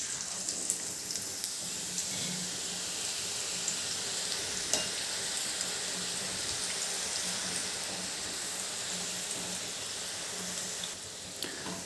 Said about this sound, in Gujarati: છીણને આપણે તળી લેવાનું છે